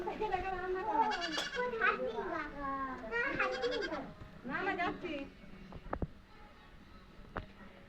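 A goat bleats in several wavering, quavering calls close by, mixed with excited children's voices chattering around it, followed by a few sharp knocks near the end.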